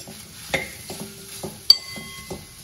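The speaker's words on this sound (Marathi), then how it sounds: "मशरूम आपण तेलामध्ये छान परतून घ्यायचे आहे।" Mushrooms frying in oil for a mushroom curry, a soft background sizzle with several spatula taps and clinks against the pan, one sharper clack in the middle.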